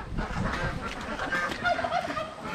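Domestic ducks kept by a farmer quack and honk in a steady, close cluster of calls that fills the whole short stretch, with no talking over them.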